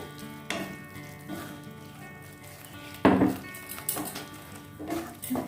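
Poppy seed paste for egg curry fries in oil with a crackling sizzle, broken by several sharp stirring scrapes and knocks against the pan, close and clear with no talking.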